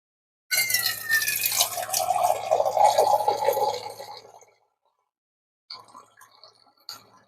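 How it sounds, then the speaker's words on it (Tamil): Water pours steadily into a pot on a stove for about four seconds, a close splashing fill that fades out, followed by a pause and a few faint clinks. "இப்போ வந்து அடுப்புல வச்சுட்டு இதுல தண்ணி ஊத்த போறேன்."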